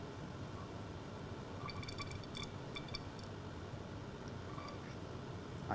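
Water poured into a bottle holding soil during a specific gravity lab test gives a faint, steady trickling and gurgling. A few small glassy clinks stand out partway through in an otherwise quiet room.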